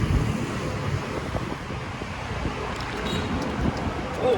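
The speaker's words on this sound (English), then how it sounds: "Damn, it's so windy, my rag blew off my head." Strong wind buffets the microphone in a steady, loud, roaring rush with no letup, broad and noisy throughout.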